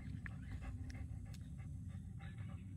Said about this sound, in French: Ça, c'est un bon chien-chien, il a tout compris. Il est dans sa cage, mon Paqui.